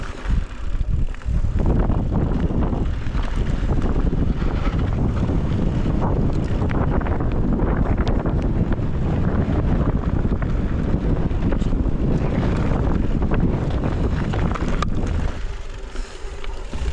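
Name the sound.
strong wind on a mountain pass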